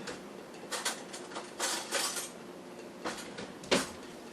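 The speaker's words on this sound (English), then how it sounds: "I usually just take a butter knife or something, just kind of to mix it up with just a little bit." A butter knife stirring yeast roll mixture in a bowl, making faint scattered clinks and scrapes against the dish in a quiet kitchen, with no talking.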